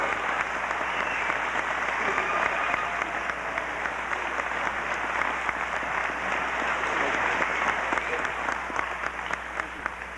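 A high school graduation audience in Oregon gives a sustained round of applause for the students, a broad, even wash of many hands clapping throughout, with faint voices mixed in.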